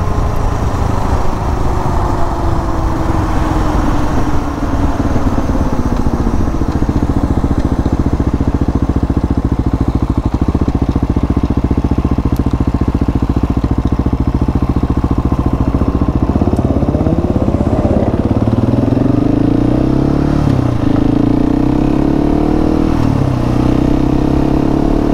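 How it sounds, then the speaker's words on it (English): A Husky 701 Enduro motorcycle engine runs on gentle throttle, a loud close steady rumble that rises and falls in pitch with light revving toward the end, with no talk. "I'm being pretty gentle on the throttle here. I'm not giving it a lot of gas."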